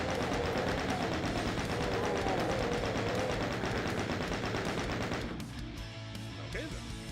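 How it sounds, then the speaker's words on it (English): Rapid, continuous chaingun fire in the 1993 DOOM game, a loud, relentless stream of shots for about five seconds before stopping, followed by quieter game ambience. "This is why God gave us chain guns."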